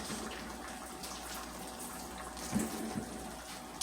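Hands rinsed under a running kitchen tap during cooking, a steady hiss of flowing water with a couple of brief splashy bursts near the end.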